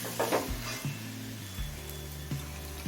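Ginger and garlic sautéing in a pan for ghugni, a quiet steady sizzle with a few soft spoon-stirring scrapes and taps, no voices.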